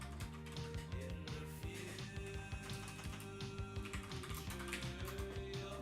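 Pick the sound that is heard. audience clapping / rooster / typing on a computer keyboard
typing on a computer keyboard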